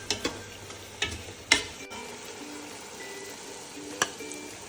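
Eggs are stirred into a masala in a pan for bachelor-style egg biryani, a spoon scraping and clinking against the metal in a few sharp knocks over a soft, continuous sizzle, with no voices.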